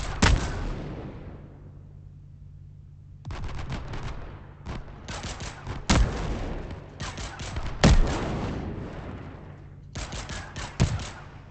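Rapid bursts of weapon fire in a video game, sharp crackling volleys stopping and starting in clusters with brief pauses and a few heavier booms over a low engine hum.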